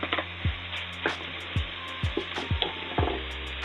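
Diced tomatoes dropping into a pan of hamburger macaroni over low heat, a quiet sizzle broken by several short, soft thuds and splats about half a second apart, close and fairly faint, with no talking.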